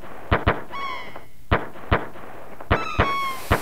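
Fireworks in the 16-bit Chrono Trigger video game burst in sharp, loud pops at irregular intervals, with whistling streaks rising between some of the bangs.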